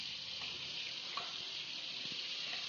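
Koi fish fry in a karahi with turmeric and salt, giving a steady, even sizzle close by with a few faint pops and clatters, and no voices.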